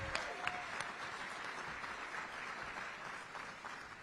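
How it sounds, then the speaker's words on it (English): Applause from a civic gathering at a city's State of the City address, fairly faint and distant: a continuous wash of many hands clapping with a few sharper claps standing out early on. "Let's give another round of applause for Chute."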